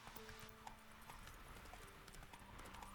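Roach, the horse in The Witcher 3 video game, gallops in a steady clip-clop of hooves over a continuous game soundscape, with a faint neigh, all at moderate level and without talk.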